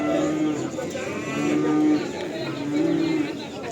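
Cattle lowing at a livestock market, with long, deep moos from nearby animals rising and falling over about four seconds against busy market chatter.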